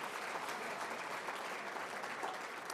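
A bowling Hall of Fame induction crowd applauds the Hall of Famers in attendance, a continuous, even wash of many clapping hands that holds at a moderate level from start to finish.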